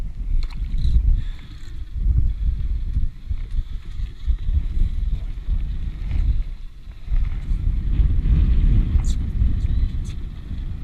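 Strong wind buffets the microphone in a steady low roar throughout, with faint engine hum underneath, on a boat while tautog fishing.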